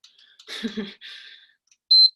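A workout timer gives one loud, high, steady electronic beep at the end. Softer scattered movement and breathy noises come before it.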